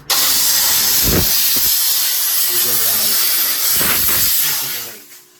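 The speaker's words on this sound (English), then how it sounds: "so the steam and pressure will push that away in this spot." Dupray Tosca steam cleaner blasting steam across a bathroom surface, a loud continuous hiss with a few brief low thumps and faint talk underneath, fading out at the end.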